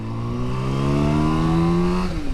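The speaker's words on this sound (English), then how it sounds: "God, it's really lively at the bottom when you rev it." Yamaha R7 motorcycle engine revving close by, its pitch climbing smoothly through one long, loud rev before dropping off at the end.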